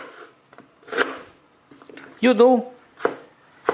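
A knife cuts ginger on a board in a home kitchen, a few sharp close chops spaced apart, with someone talking between the cuts.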